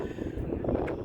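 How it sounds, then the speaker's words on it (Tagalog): A brief burst of strong wind rumbling against the microphone, dense and low, with no speech. "Kaya lang medyo malakas ang hangin dito."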